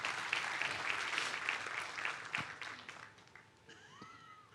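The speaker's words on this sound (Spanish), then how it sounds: "dese un aplauso, por lo menos." Steady applause from a church congregation, moderately loud and continuous, thinning out toward the end as a few faint squeaky tones appear.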